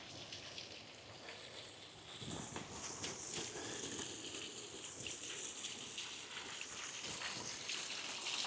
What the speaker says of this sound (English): We'll have a little look at the waterfall.